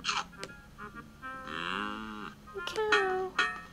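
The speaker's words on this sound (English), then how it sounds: "I wonder how I could get past that cow." In the video game Putt Putt Joins the Parade, a cartoon cow gives one drawn-out, wavering moo, clear and close. Brief game sound effects and bits of talk come before and after it.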